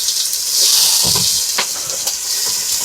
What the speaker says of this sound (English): olive oil in the bottom of that so we can saute our onion and our pepper